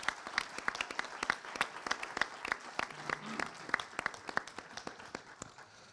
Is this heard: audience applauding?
yes